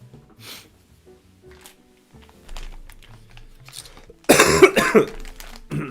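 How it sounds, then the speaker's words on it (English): A sudden burst of harsh coughing close to the mic after a stretch of quiet, soft background noise. "the cough's coming back"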